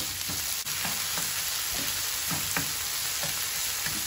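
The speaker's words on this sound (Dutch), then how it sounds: "Maar ik ga het even snel bakken." Bell pepper frying in a pan, a steady crackling sizzle with rhythmic scraping stirs every half second or so, close and alone without talking.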